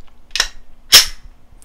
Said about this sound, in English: we'll retrieve the trusty Glock 17 and give this a functions check